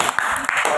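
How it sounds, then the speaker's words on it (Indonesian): Brief, scattered hand clapping from a small group in a classroom, a few close claps mixed with voices. "Yuk, tepuk tangan untuk kelompok"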